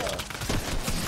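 Dense bursts of gunfire rattle through a Fortnite match, with a voice faintly underneath.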